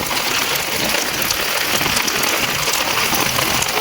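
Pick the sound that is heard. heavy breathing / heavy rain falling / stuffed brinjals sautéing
heavy rain falling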